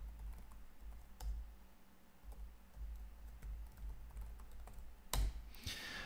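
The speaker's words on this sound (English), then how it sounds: "And now just type in your password." Keys clack on a computer keyboard as a Windows password is typed, a sparse run of soft, close taps with a louder burst of keystrokes near the end.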